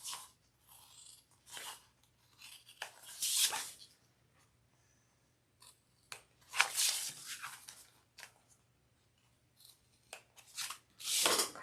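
Scissors snip fabric close to a seam corner, cutting a small Y up to the stitching. Several short, crisp cuts come in separate bursts with quiet pauses between them, close and fairly soft, with no talking.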